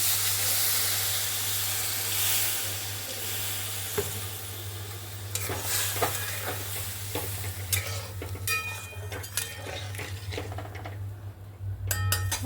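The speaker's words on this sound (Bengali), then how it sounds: "মশলাটা কষানো হয়ে গেছে এবার আমি একটু জল দিয়ে দেবো" Water poured onto sizzling fried masala for a paneer curry sets off a burst of hissing steam, then the pan settles into a crackling sizzle with spoon scrapes and a few metallic clinks close up.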